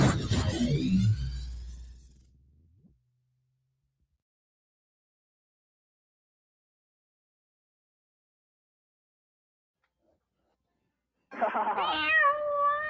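A cat meows up close, one drawn-out meow at the start fading away, then long silence before another short meow near the end.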